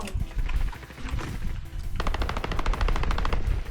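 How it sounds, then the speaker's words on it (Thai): Rapid automatic gunfire in the video game Call of Duty Warzone: dense, loud bursts of shots, with a sharper, faster rattle starting about halfway through and continuing steadily to the end. "เจอแล้วกูยิงนะ โอเคเจอยิงเลย"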